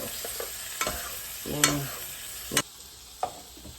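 A steak fries in butter in a pan with a steady close sizzle, while stirring and utensil clicks and scrapes come through in brief sharp taps over the frying noise.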